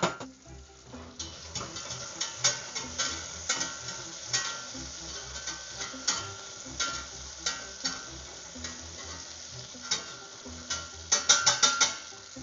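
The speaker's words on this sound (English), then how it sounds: "I'm going to stir this around until, as you can see, the celery gets soft." Chopped celery sizzles in butter in a pan while a utensil stirs it, soft continuous frying under repeated scraping and light clinks against the pan, with a brief cluster of sharper taps near the end.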